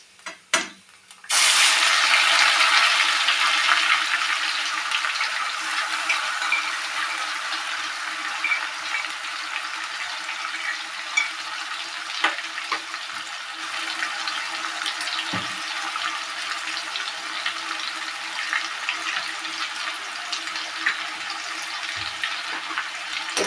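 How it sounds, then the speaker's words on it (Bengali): A paste of ginger, garlic and onion hits hot oil in a pan for a Bengali katla kalia fish curry. A sudden loud sizzle begins after a few quiet knocks and settles into a steady, close frying hiss. "এটা আমি এভাবে কষাতে থাকবো।"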